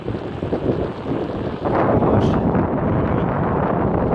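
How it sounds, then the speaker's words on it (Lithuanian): Strong headwind roars and buffets the microphone continuously on a bicycle ride, growing louder and rougher about halfway through, with no voices. "Vėjas priešpriešinis didžiulis."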